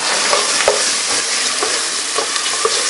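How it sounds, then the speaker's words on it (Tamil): Home-ground ginger paste frying and being stirred in a hot pan while seasoning a dish, a steady loud sizzle with scraping stirs, no voices. "ஓகே, இப்போ நீங்கள் நல்லா தாளிக்கணும்."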